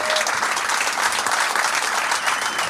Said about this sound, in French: le public va applaudir pour Janto.